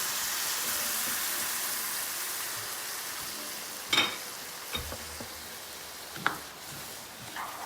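Homemade fish broth poured over sizzling rice in a pan for black rice seafood paella with cuttlefish ink, giving a steady broadband hiss with a few sharp clinks and spikes near the end, no voices.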